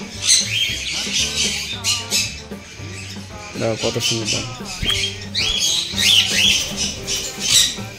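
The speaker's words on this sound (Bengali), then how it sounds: "পাইট ককাটেল, দেখো একদম হ্যান্ডটেম" A hand-tame pied cockatiel squawks in an aviary, giving repeated loud, harsh calls at close range over scattered chirps from other birds, while a person talks quietly nearby.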